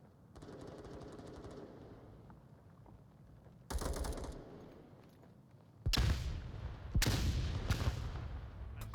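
Grenades explode in the VR shooter Onward, several loud broadband blasts in quick succession after a stretch of quieter gunfire and movement, one earlier burst standing apart.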